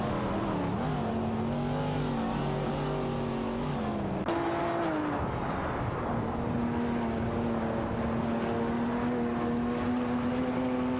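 Race cars in a racing video game roar past with high, whining engines that rise and fall, a sharp change in pitch as one car shifts, and then a sustained loud drone from cars that sound close by.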